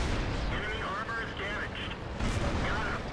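An AMX 13 75 French light tank fires on an enemy in World of Tanks, with booming cannon shots and rumbling battle noise under someone talking throughout.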